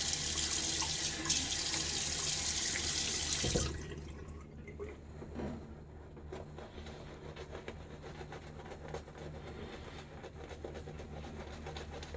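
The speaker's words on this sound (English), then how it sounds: "More water on my face" Tap water runs and splashes steadily for a few seconds, then cuts off, leaving quiet dripping and faint room noise.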